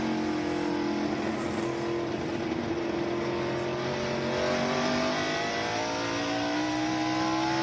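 NASCAR stock cars roar around the track at the 1996 Tyson Holly Farms 400, a loud continuous blend of high-revving engines with rising and falling pitch as cars pass, no talk over it.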